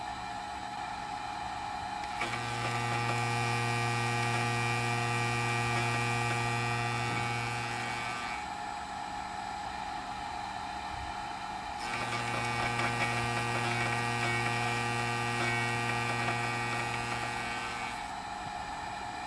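A DIY 5-axis CNC machine mills a steel fixture table, giving two long passes of steady, loud, humming whine with a low tone, each lasting about six seconds with a quieter gap between them and no talk.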